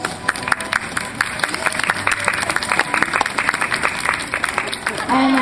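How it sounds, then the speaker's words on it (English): An audience at a sea lion show at Atlantis Marine World applauds Java, a lively spread of clapping with sharp individual claps popping through, while a voice on the loudspeaker carries on over it. "make sure you put those hands together and let Java hear it, because he does appreciate all of your applause"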